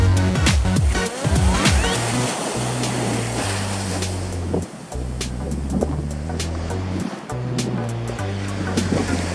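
Waves breaking on the Sea of Japan on a cold winter morning, with steady offshore wind blowing; a continuous broad wash of surf with repeated rumbling swells and wind noise, no voices.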